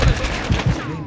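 Gunfire in Call of Duty MW2 multiplayer comes as a quick burst of several heavy, close shots in rapid succession, loud and punchy over a brief moment.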